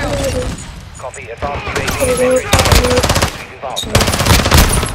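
Loud, close gunfire from a video game, rapid machine-gun bursts in two dense stretches with a brief gap between them, mixed with voices talking.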